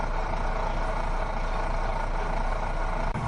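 A heavy truck engine in a kids' cartoon truck racing game drones loudly and continuously in a steady roar for a few seconds, with no voices over it.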